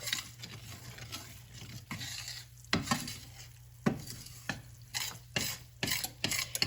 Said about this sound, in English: I just keep it stirred around